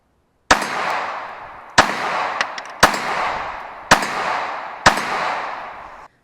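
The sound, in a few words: Glock 42 pistol shots fired at a target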